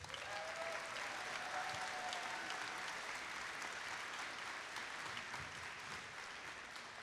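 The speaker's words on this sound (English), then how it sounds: "So give yourselves a round of applause." A large crowd claps steadily at a championship opening ceremony, a dense, even wash of applause continuing without break for the full stretch, heard from a distance and fairly quiet overall.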